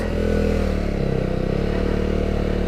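A KTM Duke 390 motorcycle rides off road near Mole Creek, Tasmania, its single-cylinder engine droning steadily and loudly up close with a throbbing pulse, wind noise and faint rattles over rough ground.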